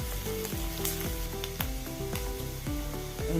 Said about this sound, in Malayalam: വെളുത്തുള്ളി വേണം ചെറുതായി അരിഞ്ഞതാണ് ഒന്ന് ഇളക്കി കൊടുക്കുക